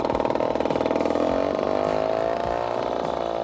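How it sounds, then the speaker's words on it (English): A small 3-horsepower outboard boat motor runs steadily at a buzzing, rattling idle, close by and fairly loud, with slight shifts in pitch throughout. "getting our new 3-horse outboard up and running"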